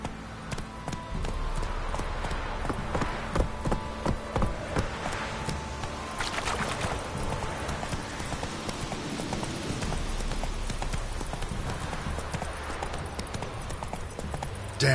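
Hooves clip-clop steadily as a horse gallops in The Witcher 3 game, a continuous rhythmic pounding mixed with game ambience and faint rain-like patter, with no talking heard.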